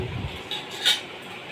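A small spoon clinks against a bowl while homemade bhel is mixed, a couple of light metallic taps with one brighter chink near the end, close and fairly quiet.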